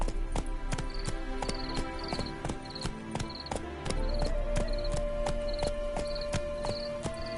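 A horse gallops in The Witcher 3 video game, its hooves beating a fast, steady clip-clop rhythm throughout, close and prominent over a continuous game soundtrack.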